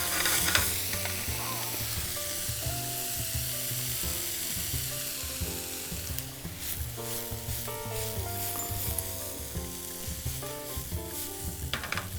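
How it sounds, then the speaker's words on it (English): Pearl onions, a sprig of rosemary and a big glob of butter sizzle steadily in a pan, with stirring clatter throughout, for a boeuf bourguignon with mushrooms. No voices are heard. "We're gonna add some pearl onions. Onion. A sprig of rosemary, and a nice big hopping glob of butter."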